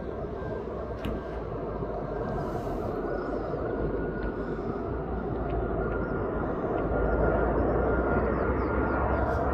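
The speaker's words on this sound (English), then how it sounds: "This flight's come from Zakynthos, the Greek islands." A passenger jet arriving at East Midlands Airport from Zakynthos gives a steady, loud low rumbling roar that swells slightly toward the end, heard at a distance without any voices.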